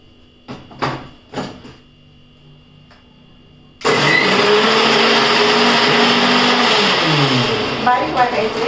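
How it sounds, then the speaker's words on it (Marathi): An electric mixer grinder grinds a green chilli and spice paste, switching on abruptly after a few soft clicks and handling sounds, then running loud and steady with a whirring, slightly pitch-shifting motor whine until the end. "आता मिक्सरमधून मी वाटून घेणार आहे."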